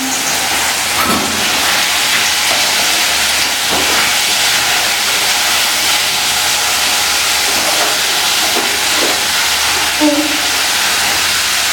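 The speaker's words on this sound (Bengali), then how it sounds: "তো তেলটা গরম হয়ে গেছে, আমি দিয়ে দিচ্ছি তেজপাতা, দুটো শুকনো লঙ্কা নিয়ে নে" Bay leaves and two dried red chillies sizzling in hot oil give off a loud, continuous, close hiss with a few brief crackles.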